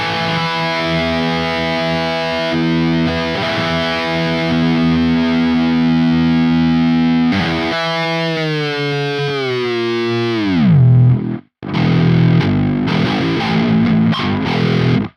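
Loud distorted electric guitar through the Neural DSP Archetype: Gojira plugin with pure pitch shifting, a synthetic edge, holding notes before diving sharply downward in pitch, then chugging again after a brief cut.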